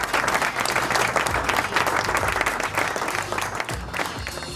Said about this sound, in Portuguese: palmas para a Plateia Virtual